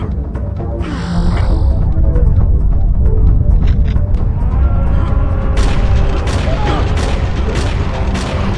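Heavy booming weapon fire from the power gun in a Turok mod shooter game, a dense continuous roar of blasts and rumbling explosions filling the whole stretch with sharper bursts near the end.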